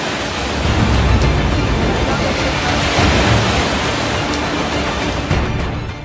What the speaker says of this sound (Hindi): समंदर में ऊंची लहरें